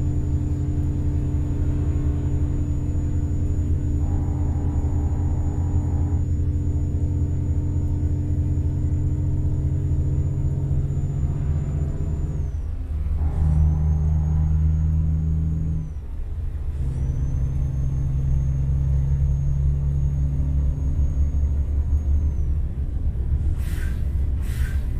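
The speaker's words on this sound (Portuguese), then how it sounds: "nós estamos dirigindo o Volvo NH12" Simulated Volvo NH12 6x4 truck engine in a driving video game: a steady low diesel rumble and drone with a high whine, shifting pitch briefly as gears change, then settling back, with no talking.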